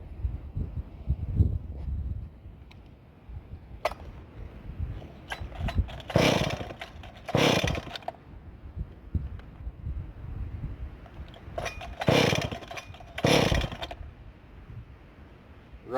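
A ported Stihl MS440 chainsaw revs in short bursts, several loud high-pitched snarls separated by quieter idling and rustling, heard up close without any talking.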